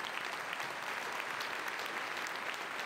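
Steady crowd applause at a mayor's annual state of the city address, an even wash of many hands clapping, fairly distant and continuous without breaks.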